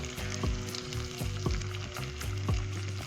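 Brinjal curry frying in a pan after goda masala goes in, a dense steady sizzle with a regular pulse of spoon scrapes and taps about once a second, close and alone.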